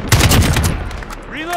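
AK-47 fire in Call of Duty Modern Warfare multiplayer: a quick close burst of several rapid shots at the start, decaying into a tail, followed by a short tonal game cue.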